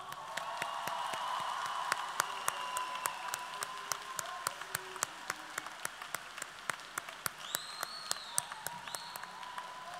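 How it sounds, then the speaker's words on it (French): An audience at the class of 2022 departure ceremony at Collège Notre-Dame de Jamhour gives sustained applause, with many sharp individual claps standing out over a steady wash of clapping, while faint tones drift underneath. "Mabrouk, les applaudissements."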